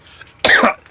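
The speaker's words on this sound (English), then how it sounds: "Been coughing, man." A single sharp cough bursts out close up after a quiet moment, then fades quickly.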